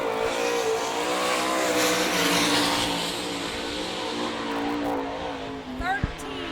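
A sprint car from the All Star Circuit of Champions runs a qualifying lap at the Sarver, Pennsylvania speedway, its engine droning loudly with steady harmonic whine that eases slightly midway, then a brief rising rev near the end.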